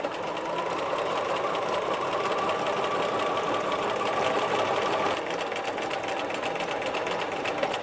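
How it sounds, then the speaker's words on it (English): A sewing machine runs steadily stitching a knit sleeve cuff, a continuous close mechanical hum with a slight change in pitch near the end, no talking. "I'm going to start stitching"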